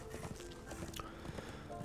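Horse hooves in the action game Darksiders 2, a steady quick clip-clop rhythm of a ridden horse running, fairly quiet and continuous beneath low game ambience.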